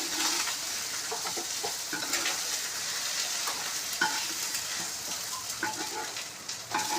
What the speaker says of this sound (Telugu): మెరినేట్ చేసి పెట్టింది మెదళ్ళు నేను ఇప్పుడు ఫ్రై చేస్తున్నాను